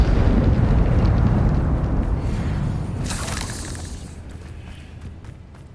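Confringo fire spell from Hogwarts Legacy going off, a loud roaring blast with crackling debris that fades over several seconds, a sharp bright burst near the middle, no voices.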